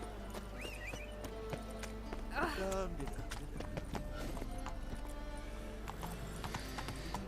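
Roach the horse clopping along in The Witcher 3, steady hoofbeats with a brief neigh in the middle, set against game music and ambience.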